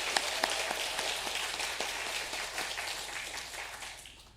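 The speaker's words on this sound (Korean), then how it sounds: "그리고 너무나 잘 말씀 준비해 주신 우리 나영원 집사님께 감사의 박수를 드리도록 하겠습니다." Members of a Korean church congregation clap in thanks during a Sunday worship service, producing a full, close round of applause that gradually fades over several seconds.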